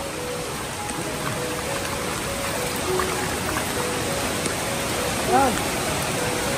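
Floodwater rushes in a steady, broadband wash during rain, loud and continuous throughout, with faint voices and brief tonal sounds briefly surfacing over it.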